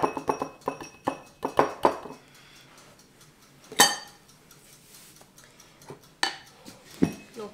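A whisk or spoon clinks and scrapes against a bowl while chocolate is mixed into a large amount of egg white, giving several sharp metallic taps and a stretch of softer stirring between them, with no talking.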